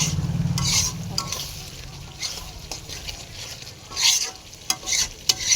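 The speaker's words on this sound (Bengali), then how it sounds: "দেখো মশলাটাকে আমার কষানো হয়ে গেছে" Spices sauté in a pan with a steady sizzle, broken by repeated stirring and scraping strokes that come in irregular bursts near the end.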